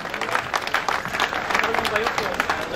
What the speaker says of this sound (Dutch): Mag ik een applaus voor de winnaar